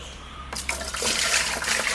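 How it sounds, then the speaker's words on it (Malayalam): Thick rice-starch water poured onto garden plants, a short splashing gush that starts abruptly and keeps running, close and fairly loud. "കഞ്ഞിവെള്ളം ഒഴിക്കാൻ പോവാണ്"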